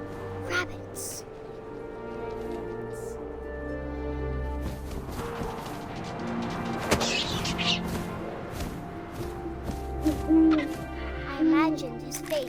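An owl's soft hoots in the game What Remains of Edith Finch sit under a steady narrating voice, with faint wind-like ambience and a few light knocks in the background.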